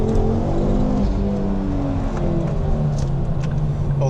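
A Ford Focus RS hot hatch engine drones and revs while driving on a B-road, a loud, steady engine note with gently shifting pitch heard from inside the car, with no talking.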